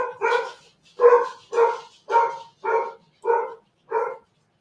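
A dog barks seven times in an even, steady rhythm, fairly close and loud, with no other sounds between the barks.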